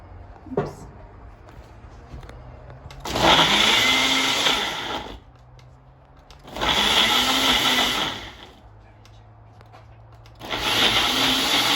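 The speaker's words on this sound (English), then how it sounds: "Then we go to this little blender action." A blender making a fruit drink whirs loudly in three separate bursts of a few seconds each, with quieter pauses and faint background noise between them.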